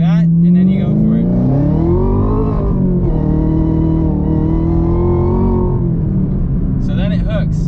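A Chevrolet Camaro ZL1 1LE track car launches after its tires are warmed. The engine is loud and close, its pitch climbing steadily through the revs, and someone talks over it.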